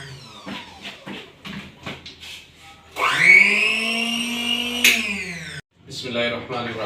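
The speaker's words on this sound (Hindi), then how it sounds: "अब हम इसको ले जा रहे हैं ब्लेंडर के ऊपर" Kitchen blender grinding turnip with a little added water, a loud steady whirring whine that starts abruptly mid-clip and cuts off, with talk before and after.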